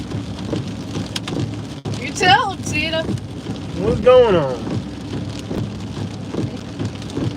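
Heavy Southwest Florida rain roars steadily throughout, loud and close, while someone talks briefly over it.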